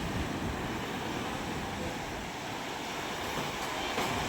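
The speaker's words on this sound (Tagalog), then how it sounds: "Grabe ang ating alon." Ocean waves roll and surge around a fishing boat at sea off a fish terminal in Tanza, Cavite, a steady broadband wash with wind that holds loud and close throughout, no talk.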